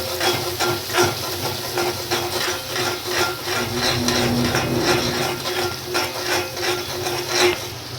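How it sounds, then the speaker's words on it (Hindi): Masala spices frying in oil in a pan for soya palak curry, a steady hiss and sizzle with faint scraping strokes of a spoon, close and continuous, with no talking. "अब मसाले को भून लेंगे अच्छे से"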